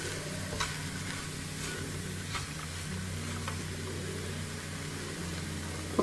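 A spoon stirs vangi bath, a spiced brinjal rice, in a pan on the stove, with a steady sizzle and frying hiss under a few soft scraping strokes, close and continuous.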